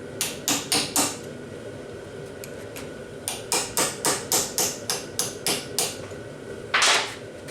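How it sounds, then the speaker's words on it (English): A small chisel is tapped against an old seal, giving a run of sharp, evenly spaced metallic knocks in two bursts with a short pause between them, close up and alone with no talk. "I'm just using a small chisel here. Just gonna tap that old seal out."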